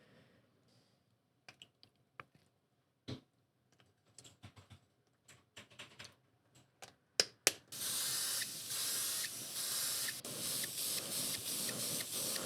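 Acrylic polyurethane matte varnish by Vallejo sprayed onto a 3D-printed ribbed fishing lure: scattered small clicks and taps first, then a steady close spray hiss in short pulsing bursts for the last several seconds.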